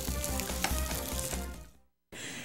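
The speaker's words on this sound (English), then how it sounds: "What do you got frying up in your frying pan?" Turkey and fresh vegetable burger frying in a pan, giving a loud, busy sizzle with scattered crackles before it cuts out briefly and resumes.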